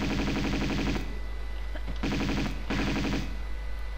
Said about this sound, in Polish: Czemu ja strzelam w ogóle do niego